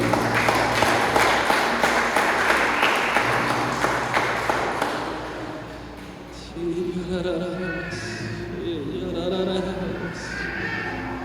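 A church congregation applauds together from their seats, a broad wash of clapping that swells for several seconds and then thins, while a voice talks or sings over the top in the second half.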